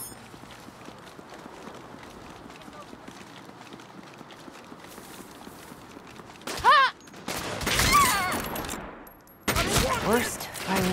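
Gunfire in the video game Saints Row V: a burst of rapid shots mid-clip, then sustained loud volleys of automatic fire, over a constant background of game ambience.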